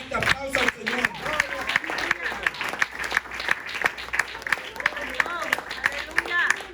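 A church congregation claps loudly with sharp, dense hand claps, while cheering and shouting voices rise over the applause.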